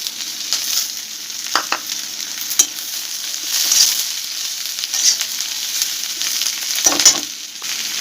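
Capsicum frying in a pan for chilli mushroom, a bright hissing sizzle with stirring scrapes and short louder bursts as the pieces are moved, close and with no talk.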